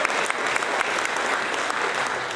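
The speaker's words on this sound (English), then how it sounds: "Give them that big round of" Sustained audience applause honoring blood donors at a church event, many hands clapping briskly and steadily at close, full volume.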